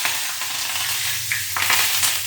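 Mustard seeds and cumin splutter in hot oil for tempering, a dense close crackling hiss with sharp little pops and a short stirring scrape near the end, no voices.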